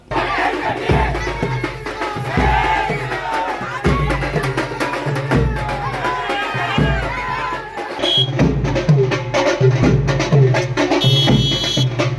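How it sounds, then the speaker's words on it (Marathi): A large crowd celebrates a landslide election victory for a BJP candidate with loud rhythmic group chanting and shouting, sustained and close, with repeated drum-like thumps and bursts of cheering. "देवेंद्र कोठे यांचा दणदणीत विजय झाल्याबद्दल जांबमुनी मोची समाज भाजप प्रेमींच्या वतीनं कोणापुरे चाळी मोठा जल्लोष साजरा करण्यात आला"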